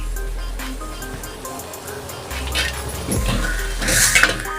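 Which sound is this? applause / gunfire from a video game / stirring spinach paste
stirring spinach paste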